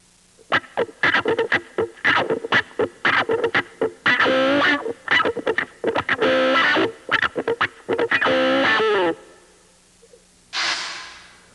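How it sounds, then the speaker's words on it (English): Electric guitar notes and chords played through an auto-wah, each attack sweeping with a vocal, quacking filter, ending with a short burst of noise. "which sounds exactly like a wah-wah, but you don't have to stand on the pedal"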